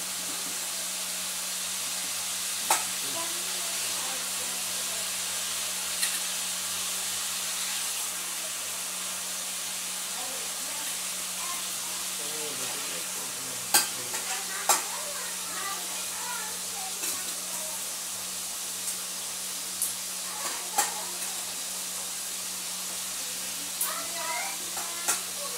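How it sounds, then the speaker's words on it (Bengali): Chicken frying in oil in a home kitchen, a soft continuous sizzle and hiss with occasional sharp clicks and stirring clatters. "চিকেন রোস্ট করতে হলে আগে তো চিকেন ভেজে নিতে হবে বলে। তাই করছি।"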